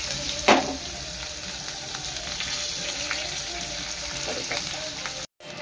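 Chopped onion drops into garlic browning in hot oil for a raw jackfruit curry, giving a sharp burst of sizzle that settles into a steady, moderate crackle, with a few faint clinks and no talk.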